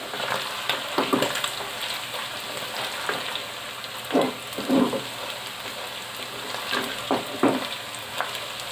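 Meat frying in a pan for bhindi gosht, a steady close sizzle with occasional louder crackles and stirring scrapes, no talk.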